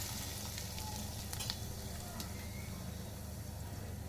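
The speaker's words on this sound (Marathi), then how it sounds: "मोहरी आपली तडतडली आहे." Mustard seeds, cumin and curry leaves spluttering in hot oil for a sweet-and-sour drumstick amti, a faint continuous sizzle with a few sharp pops and crackles, steady throughout without talk.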